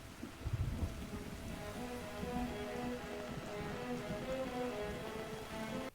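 Steady rain falls throughout a scene from a science-fiction TV episode, a dense hiss with low rumbling underneath and faint musical tones drifting through, with no talk.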